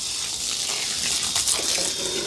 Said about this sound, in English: I chuck a bit of water down the drain.